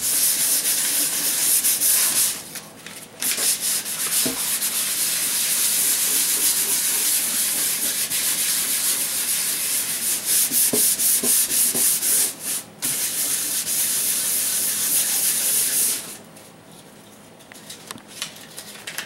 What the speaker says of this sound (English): 600 grit sandpaper